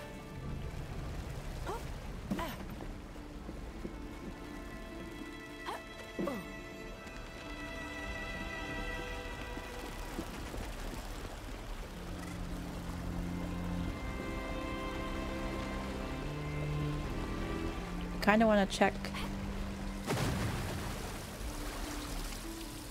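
Waterfall in the video game Grow: Song of the Evertree, a steady rushing, splashing wash of water running under the whole stretch, with a person talking briefly over it and a few short game sounds.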